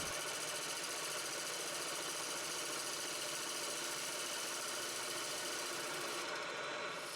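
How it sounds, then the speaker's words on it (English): A wood lathe spins as a gouge cuts maple and mahogany for a box with a finial, making a steady, unbroken hiss and whir with a constant drone throughout and no talk. "you can see that I am rubbing softly the gouge's bevel against the wood"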